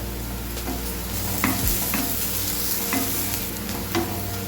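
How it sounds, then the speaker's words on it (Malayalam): Sliced onions frying with a pinch of salt in a pan make a continuous close sizzle over a low hum, punctuated by occasional stirring scrapes and taps, with no one speaking. "ഇത് ചെറുതായിട്ടൊന്ന് ബ്രൗൺ കളർ ആവണം. സവോള മൂക്കാനായിട്ട് നമുക്ക് ഇത്തിരി ഉപ്പിട്ട് കൊടുക്കാം."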